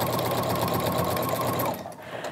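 A sewing machine fitted with a walking foot stitches straight quilting lines in a steady, close whirring run for most of the clip, then stops abruptly near the end.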